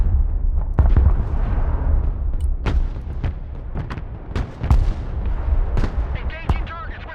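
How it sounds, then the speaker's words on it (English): Artillery fire in the Broken Arrow war game: a run of sharp, booming shots at irregular intervals over a rumbling battle bed, some close and loud, others more distant, with voices heard faintly at times. "Artillery ready to fire, sir."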